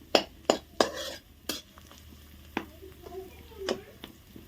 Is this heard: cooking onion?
yes